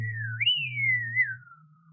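A person imitates a dolphin by whistling and humming at the same time: a sliding, wavering whistle rides over a steady low vocal drone, close and alone for about two seconds.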